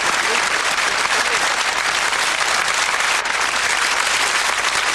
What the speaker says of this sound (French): Et je vais vous demander d'applaudir le lauréat d'aujourd'hui qui est monsieur Hubert Gilouin.